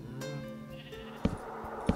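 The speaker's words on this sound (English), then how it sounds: "They're a musical sheep." Sheep bleat in two short, loud calls near the end, standing out sharply over a steady background hum with a faint tonal drone running throughout.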